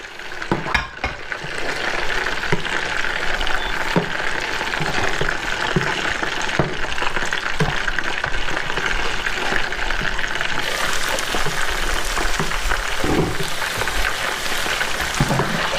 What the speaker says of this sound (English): just chuck it straight in the pan. Start to mix that in.